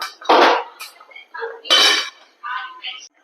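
Metal cookware clatters as a lid is set over a pot of boiling eggs, a few distinct bright clanks and scrapes spaced across a short moment, close and fairly loud.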